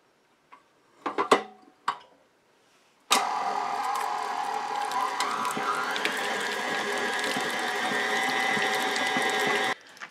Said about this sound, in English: We're going to start by creaming the butter and cream cheese together.